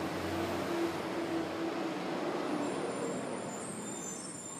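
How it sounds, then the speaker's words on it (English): Trash and recycling trucks pass on a residential street in the morning: a steady, loud rumble of heavy engines and roadway noise that holds throughout and eases off slightly toward the end, with no voices. "the sound of the trash truck and the recycling trucks going"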